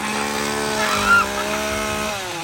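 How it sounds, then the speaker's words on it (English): A chainsaw drones steadily at a Halloween scare zone at SeaWorld San Diego, a buzzing motor held at an even pitch for a couple of seconds at moderate distance. "And of course, got the obligatory chainsaw."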